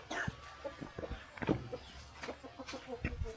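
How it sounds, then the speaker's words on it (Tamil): Chickens in a village garden coop give a few soft, scattered clucks. They are quiet and sit among low rustling and background noise. "கோழி கொட்டுக்க முட்டை கொண்டு பார்க்குறேன்."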